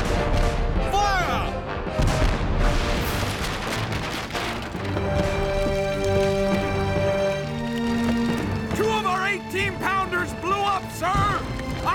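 Cannon fire from warship guns in an animated naval battle, booming shots ringing out amid a steady orchestral score, with shouted voices over the action and bursts of explosive noise near the end.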